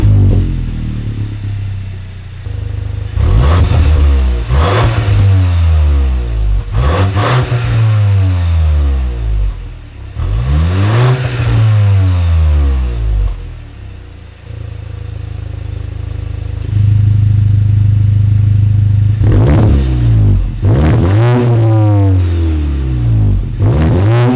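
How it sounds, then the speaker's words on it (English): A 2022+ MK8 VW GTI with a valved XForce performance exhaust revs hard several times, each roar climbing and dropping back to idle, loud and close. "Let's see what this thing sounds like."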